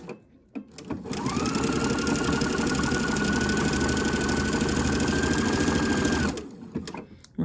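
A sewing machine stitches underwear fabric at the gusset in one sustained run of about five seconds, a steady close mechanical whir starting and stopping cleanly, without talk.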